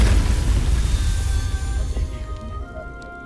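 An incendiary blast in the fantasy role-playing game Baldur's Gate 3, a loud, dense rumbling roar with crackling debris that holds steady for a few seconds and then thins out. No voices.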